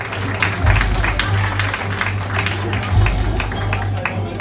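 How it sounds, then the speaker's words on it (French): Steady applause from an audience at a kizomba event at the Hôtel Karibea in Guadeloupe, broad and continuous through the clip with amplified music humming beneath. "Félicitations, on les applaudit."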